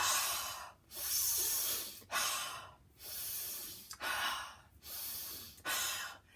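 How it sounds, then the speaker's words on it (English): Slow deep breathing, air drawn in through the nose and blown out through the mouth, five or six long, loud, close breaths in steady rhythm with brief pauses between. "we can take deep breaths, and so we can breathe in through our nose and exhale through our mouth"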